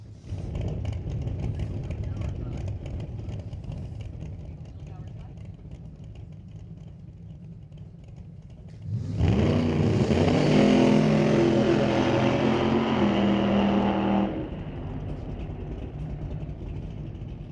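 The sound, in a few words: Willys drag race car engine running down the track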